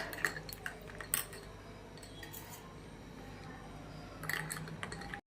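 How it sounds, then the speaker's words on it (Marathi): Ice cubes are stirred into raw mango panha, giving light clinks and rattles against the vessel in short bursts near the start and end, quiet and close with a soft steady background. "आईस क्यूब टाकूया आणि हलवून घेऊया।"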